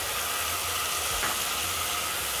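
Blended tomatoes meet garlic in a hot pan, giving a steady close-up hiss and sizzle with no break and no one talking.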